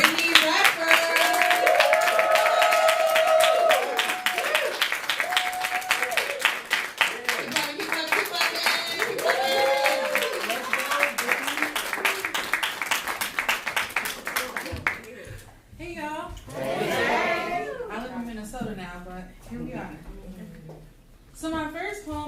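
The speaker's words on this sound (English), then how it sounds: "Okay, start clapping right now." Audience applause at a live poetry performance: dense, steady clapping with cheering voices running for about fifteen seconds, then cutting off as a single voice begins speaking.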